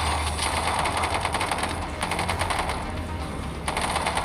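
Rapid automatic gunfire in the zombie shooter game Zombie Horde: Heroes FPS, loud sustained bursts of rattling shots with brief pauses between volleys, no voices.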